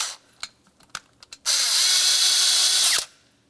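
A power tool snugs the EGR valve adapter bolts on a 1998-2002 Lincoln Navigator, with a few sharp clicks and taps followed by one loud, steady whirring burst of about a second and a half that stops abruptly.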